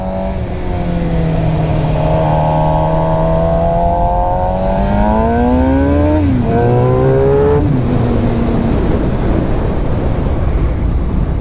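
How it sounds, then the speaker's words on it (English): A loud 2016 Suzuki GSX-R 750 sport motorcycle with its stock exhaust revs up and down through rising and falling pitches, with a rough exhaust note and wind noise throughout. "The stock exhaust sounds pretty good"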